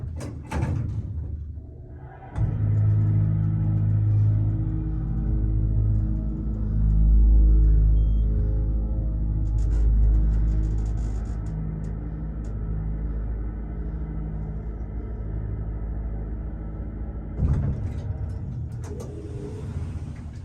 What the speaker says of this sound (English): let's listen to the motor